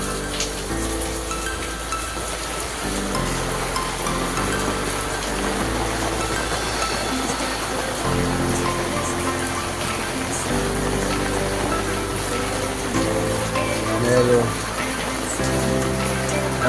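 A heavy monsoon downpour drums steadily on surfaces outdoors, a close, dense patter of rain with a low background hum running beneath it and no clear speech.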